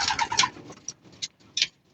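Pigeons kept by a fancier coo in several short, separate bursts, fairly close and moderately loud, with brief quiet gaps between calls.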